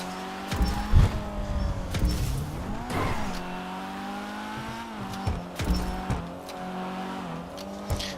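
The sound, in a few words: LS-tuned car skidding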